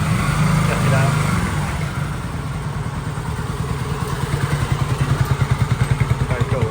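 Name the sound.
Honda motorcycle arriving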